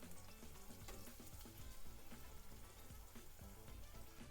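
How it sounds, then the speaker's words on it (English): Cumin and mustard seeds sizzle and crackle with chopped onions in hot oil for dal tadka, a dense, continuous close frying hiss with scattered pops throughout. "cumin and mustard seeds and hear them sizzle"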